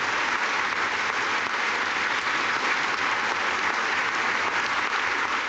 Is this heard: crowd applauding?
yes